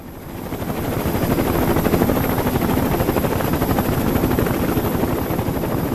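Search helicopters fly overhead hunting for a lost airliner's wreckage in mountains north of Kathmandu, a loud, steady rotor thump that swells in over the first second and then holds, with no talking.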